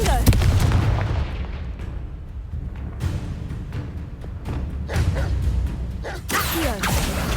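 Repeated Confringo blasting-spell explosions in the video game Hogwarts Legacy, a dense run of sharp booms and whooshing bursts over a loud, busy game mix with voices throughout.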